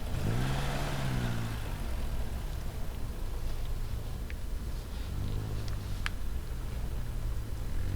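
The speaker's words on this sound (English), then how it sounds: "Getting into the car, it drives away." A car pulls away and drives off, its mid-pitched engine revving up then settling into a steady hum that carries on under a broad wash of road and ambient noise, with a few faint clicks near the end.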